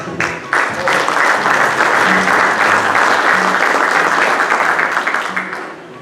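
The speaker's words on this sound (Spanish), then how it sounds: "Recibamos a él con un fuerte aplauso" Loud, close applause from an audience at a book presentation welcoming the speaker who will comment on the work, swelling quickly into a full, sustained burst of clapping with a few faint tonal sounds beneath, then tapering off at the end.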